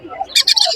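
Pet lovebirds at a crowded bird market in Serampore let out a quick burst of shrill squawks and chirps, close and loud, over a low murmur of background voices.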